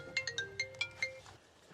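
A phone rings with an incoming call nearby, a quick repeating chime pattern of about six bright pulses, fairly faint against low background hum, then trailing off.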